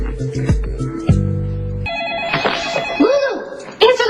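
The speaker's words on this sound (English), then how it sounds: "answer the phone." Telephone ringing in an office, a repeating electronic ring tone cutting in partway through, close and fairly loud, with people talking around it and overlapping the rings.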